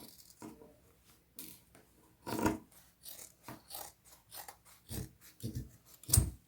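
Scissors cut straight across a pair of jeans, a series of quiet crunching snips through heavy denim with pauses between strokes, close and faint.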